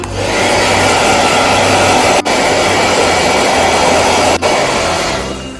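A hair dryer on low heat dries a puppy after its bath, blowing as a loud, steady whoosh with a low hum that runs throughout, broken by two brief dips and easing slightly at the very end.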